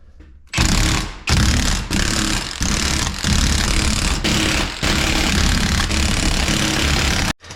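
A pneumatic impact wrench tightens bolts on a 14-bolt axle build, firing in loud, rattling bursts separated by brief pauses, close by with no talking.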